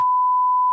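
A single steady censor beep, a pure electronic tone of under a second, sounds loud and clean on its own.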